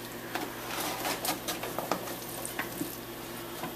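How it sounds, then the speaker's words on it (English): Chunks of butternut squash are gently added to a sauce in a pan for squash lasagna, making a soft, low sizzle and bubbling with a few small wet plops and stirring taps close by. "I'm going to gently add this to my sauce"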